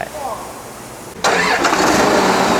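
An Isuzu 6HK1 diesel engine, a 280-horsepower unit with a mechanical inline pump, cranks briefly and then fires into a loud, steady, rough idle after a short lead-in of faint talk.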